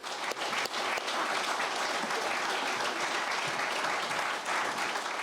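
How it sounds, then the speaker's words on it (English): Audience applauding at a book launch, a dense, steady wash of clapping that stays loud and even throughout, with no voices rising above it. "So please let's have a round of applause for Adam."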